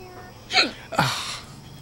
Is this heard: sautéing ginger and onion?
no